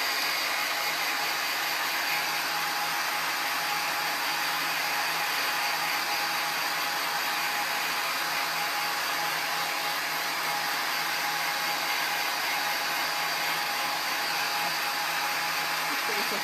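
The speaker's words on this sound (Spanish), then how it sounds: "Voy a secar esta con el secador y le voy a dar otra manito" A hair dryer blows steadily and loudly for the whole stretch, drying paint on a recycled tin can, a continuous broad whoosh with a faint motor whine and no pauses.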